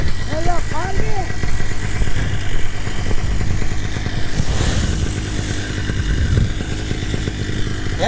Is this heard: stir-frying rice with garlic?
no